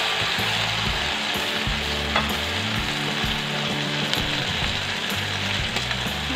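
Chicken pieces for soy-sauce grilled chicken sizzle steadily in a hot pan, a loud, dense frying hiss with faint scraping and clicking underneath, close and continuous with no talking.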